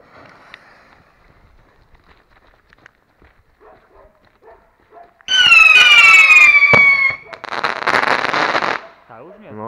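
Fireworks rockets are launched outdoors, several at once, with loud whistling and crackling bursts in the second half after a quiet stretch of faint handling noises.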